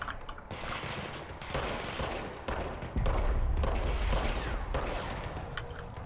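Gunfire from the video game Control roars in a dense, continuous fusillade of rapid automatic shots, loud and close, with brief dips in intensity but no real pauses and no talking.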